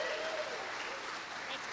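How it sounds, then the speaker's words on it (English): Steady, even applause from an audience at a county communications event, a dense continuous patter of clapping with no clear breaks, fairly close and filling the whole moment. "Come on, give her a round of applause."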